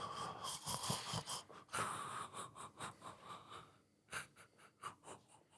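Heavy, laboured breathing with wheezy, rasping inhales and exhales repeats in an uneven rhythm close to the microphone, with no talk.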